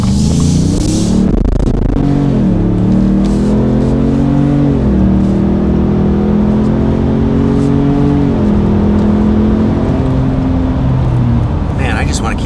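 Ford F-150 (2021+) with an MBRP single side exit cat-back exhaust, revved hard several times in a row: a loud, deep exhaust note climbing and falling with each throttle blip, with a voice speaking briefly near the end.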